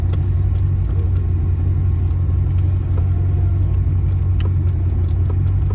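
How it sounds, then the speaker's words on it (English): An electric seat motor in a 1993 Corvette Callaway runs as a steady, fairly loud low hum, with faint scattered clicks on top and no voices. "I hear a motor going off there"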